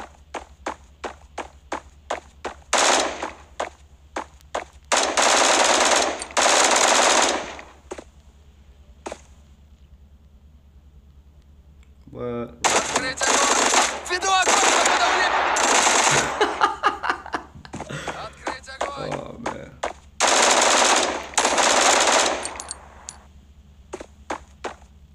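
Gunfire from the online multiplayer FPS game Bullet Force, played on Android: loud bursts of rapid automatic fire, several seconds each, separated by pauses filled with sharp footstep-like clicks over a steady low hum.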